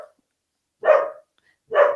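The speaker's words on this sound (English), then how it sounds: "sorry about my dog barking" A dog gives two separate barks about a second apart, fairly close and clear, with silence between them.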